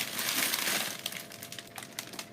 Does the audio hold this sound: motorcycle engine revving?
no